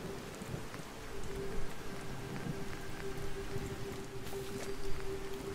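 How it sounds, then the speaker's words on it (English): Steady rain pours down in Fallout 4, a dense even hiss of drops on the ground with a faint low rumble beneath, continuous and fairly close for the whole stretch with no voices. "Still fucking raining."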